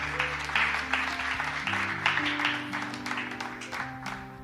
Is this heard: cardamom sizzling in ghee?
no